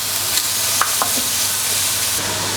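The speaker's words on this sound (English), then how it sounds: "A bit of garlic, and then just give that a stir around." Garlic being stirred in a hot pan alongside bacon, a continuous bright sizzle with a couple of light scraping knocks from the spoon, close and fairly loud, no voices.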